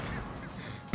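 A grenade goes off in a Fortnite Battle Royale match. A sudden loud blast comes at the very end, right after a second of steady game noise.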